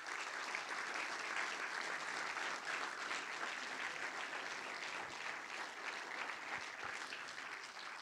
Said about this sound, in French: Et puis, des applaudissements nourris aussi pour notre directrice de la programmation, Edna Applebaum.